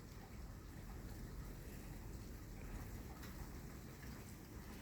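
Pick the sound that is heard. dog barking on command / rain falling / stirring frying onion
rain falling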